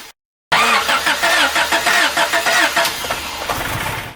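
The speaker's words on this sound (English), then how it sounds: "I will start the engine" A Honda Prelude engine cranks in a run of rhythmic starter pulses, then catches and settles into a steady idle, loud and close.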